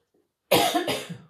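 A single harsh cough bursts out close to the microphone after a moment of near silence, with a rough, throaty double burst.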